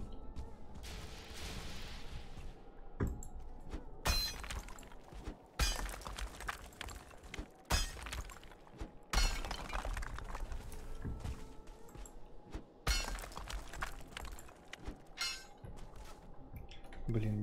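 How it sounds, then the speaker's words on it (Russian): Tree toppling and crashing down in the Valheim video game, with several loud sharp impacts and cracks spread through the clip over a steady background bed. "Блин, дерево упало."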